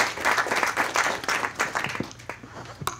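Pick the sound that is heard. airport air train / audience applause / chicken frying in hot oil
audience applause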